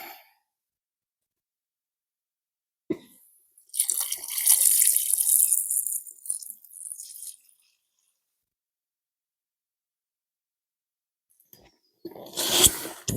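Water pours and splashes out of a crayfish pot at a farm dam, a burst of rushing gushing for several seconds, then quiet, then another short splashing pour near the end, with no talking.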